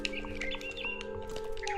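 A bird chirps in the video game What Remains of Edith Finch, with short tweets over a steady ambient game hum, close and fairly faint, no talking.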